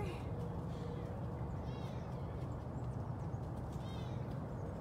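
A Savannah cat named Diablo calls in faint, short meows against a steady low background hum, with nobody talking.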